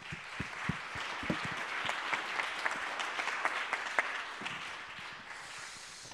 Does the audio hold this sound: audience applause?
yes